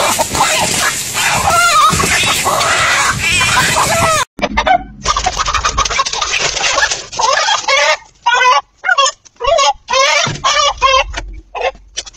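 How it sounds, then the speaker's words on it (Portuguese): A hen clucking and squawking loudly while defending her chicks on a farm, with agitated bursts that turn into broken, intermittent calls near the microphone. "é uma galinha aí defendendo seus pintinhos"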